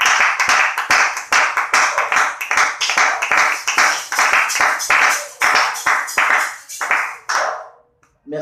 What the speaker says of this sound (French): On acclame pour le Seigneur Jésus-Christ.